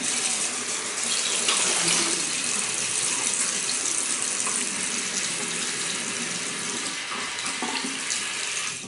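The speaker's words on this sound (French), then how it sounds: "Je vais me rincer de la figure." Tap water runs steadily into a sink at close range while someone rinses their face after a traditional wet shave with maple shaving soap, a continuous hiss with no talking.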